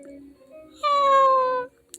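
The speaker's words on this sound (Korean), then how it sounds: "새끼 고양이의 울음소리." A kitten gives one long, drawn-out cry that falls slowly in pitch. It sounds close and fairly loud, and a couple of soft short mews lead up to it.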